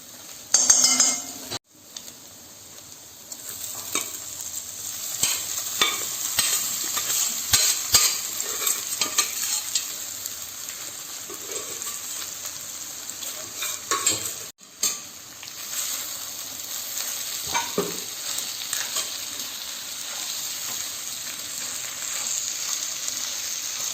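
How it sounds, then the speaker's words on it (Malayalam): Cooked mutton stirred into a roasting masala in a pan for Kerala-style mutton roast, steady close sizzling and frying with repeated scraping stirs and occasional clinks of the spoon against the pan, no talk. "ഇനി ഇതിലേക്ക് നമ്മൾ വേവിച്ച് വെച്ച മട്ടൻ ഇടാം."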